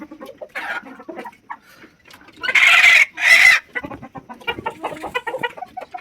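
Local chickens crowd around water pots after feeding, clucking and chattering close by, while a sudden pair of loud crowing bursts breaks out in the middle.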